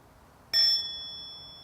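A meditation bell is struck softly for a half sound, giving one gentle ding that rings on as a clear, slowly fading metallic tone in an otherwise quiet room.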